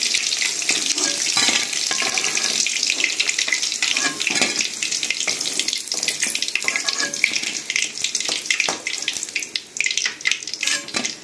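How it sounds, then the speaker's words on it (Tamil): Chicken 65 pieces deep frying in hot oil, giving a steady, busy crackle and bubbling hiss that runs close and loud throughout with no talk. "இதே மாதிரி இப்போ எல்லா சிக்கனையும் நான் பொரிச்சு எடுத்துக்கிறேங்க."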